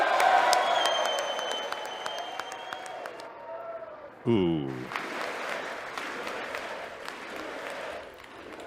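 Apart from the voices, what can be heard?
audience applause for the President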